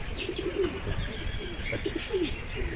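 Several pigeons of various breeds coo in low, rolling murmurs over a steady background hum at Velankanni, with a few higher bird chirps scattered through.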